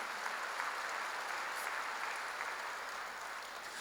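Applause from a church congregation during a worship service, a faint, distant wash of clapping that holds steady without breaks.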